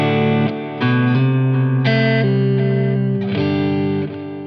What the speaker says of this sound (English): It's your basic clean sound with a little bit of reverb and a quarter note delay.